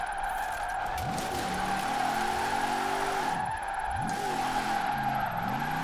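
Jeep Gladiator tyres skid and squeal through a drift down a mountain in Forza Horizon 4, with swooping engine notes rising and falling under a steady tyre screech, loud and continuous throughout.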